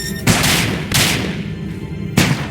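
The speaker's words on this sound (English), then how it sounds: "those kind of bombs actually just turn the area around into minerals" Bombs exploding in the game Starbound, three loud, close blasts spaced about a second apart, each a sharp broadband burst with a short rumbling tail, with no voices.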